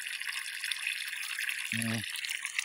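Water from a tap fed by a solar water pump runs in a steady hissing stream, with a brief low thump partway through.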